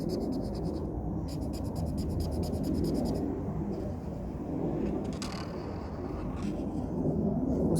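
Pen or marker scratching steadily across paper while a logo is drawn, a close, continuous scribbling texture with brief pauses, alone without talk.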